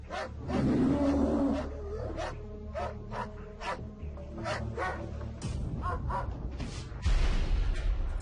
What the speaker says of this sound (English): A homeowner hears his dog barking